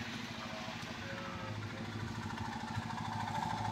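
A 2009 Toyota Yaris engine, after a Blackcore carbon-cleaning treatment, runs at a steady idle close by with an even, humming rhythm.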